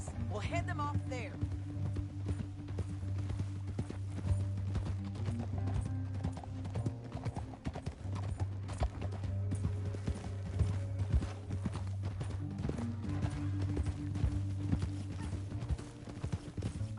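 Galloping horse hooves from Red Dead Redemption 2 drum a steady, rapid clip-clop for the whole stretch, close and continuous, over a low rumbling music bed and occasional game sounds.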